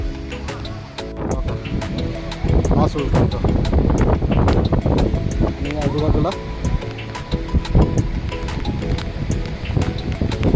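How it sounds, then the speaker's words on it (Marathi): Strong wind buffets the microphone on the foggy hilltop of Karnala Fort near Panvel, a loud, rumbling roar that gusts continuously while someone talks over it. "वारा खूपच आहे आज खूप म्हणजे खूपच"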